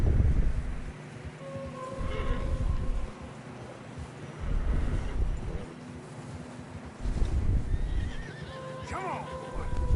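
Horses whinny in the video game Red Dead Redemption over a windy, snowy outdoor background, with a faint clip-clop of hooves and voices talking now and then.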